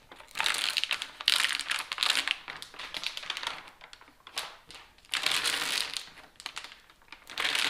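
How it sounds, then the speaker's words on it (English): Adhesive backing paper being peeled off sheets of Flatline Barriers sound deadener during a 1971 Pontiac GTO restoration, heard as loud bursts of crackling, crinkling paper and tearing, coming in three separate pulls close to the mic with no talking. "we just take this paper off."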